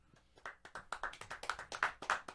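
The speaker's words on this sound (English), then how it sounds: "Let's give ourselves a round of applause." Podcast hosts clap a quick round of applause indoors, a rapid string of about fifteen close, crisp claps over roughly two seconds, getting slightly louder toward the end.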